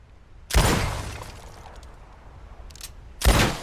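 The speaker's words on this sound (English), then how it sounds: "I'll shoot a few more this time" Two loud gunshots in Red Dead Redemption 2 during a shooting contest, a few seconds apart, each a heavy blast with a rumbling tail over a quiet background and a faint click between them.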